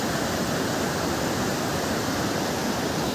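Diverted runoff after heavy rain rushes steadily past in Sattichaur, a dense, continuous roar of flowing water close by with no pauses and no voices.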